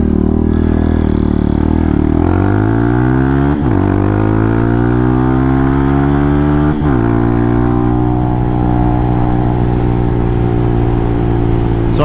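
A JFG Hawk 250 motorcycle running slightly rich is ridden through streets. The engine drones loudly and close, rising in pitch as it revs up through gears, with two shift dips before it settles into a steady cruise.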